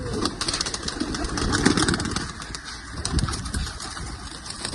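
Pigeons in a large loft in Punjab, a white pigeon among them, coo in soft, low rolls beneath a steady wash of noisy background hum.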